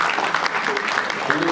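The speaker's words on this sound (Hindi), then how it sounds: "ताली बजाइए।" Applause from a crowd at a New Year celebration gathering, continuous clapping of many hands filling the moment, loud and close with no talking over it.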